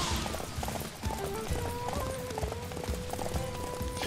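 Rapid, rhythmic hoofbeats of a galloping horse in the video game Samurai Warriors 5 pound along steadily, close up, over a noisy background with tonal music-like sounds.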